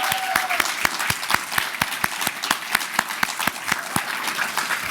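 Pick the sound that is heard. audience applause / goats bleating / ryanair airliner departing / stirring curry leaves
audience applause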